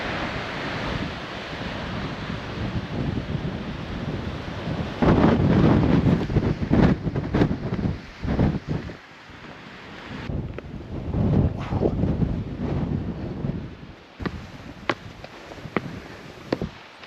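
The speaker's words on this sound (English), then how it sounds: "Windy." Strong wind gusts across the Pembrokeshire coast path and buffets the microphone, a loud roaring rush that swells and drops in irregular surges, with no talking.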